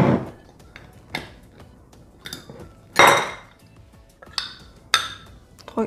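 A spoon scoops coconut flour in a bowl, making scattered light metallic clinks and taps close by, with one louder scrape and quiet gaps between strokes.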